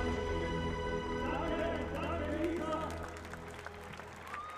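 Crowd at a women's pole vault meet cheering and clapping, a steady wash of applause that fades slightly toward the end while an announcer talks over it.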